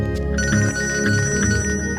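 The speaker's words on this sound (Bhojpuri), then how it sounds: "समधे जी के फोन आवता। आई बतियाई ना।" A telephone ringtone for an incoming call plays loud and close as a continuous electronic melody, with no voices.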